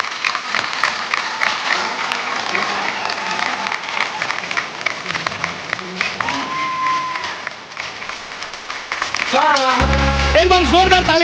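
A studio audience applauds and cheers to welcome Akshay Kumar and Sonakshi Sinha on a Hindi comedy show, sustained clapping under a host's voice, swelling with music near the end.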